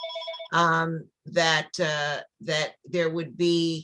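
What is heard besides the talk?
telephone ringing in the room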